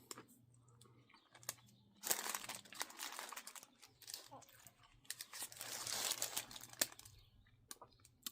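Paper wrapped around a chopped barbecue beef brisket sandwich crinkles and crumples close up in bursts of loud rustling between quieter pauses, with a low steady hum underneath.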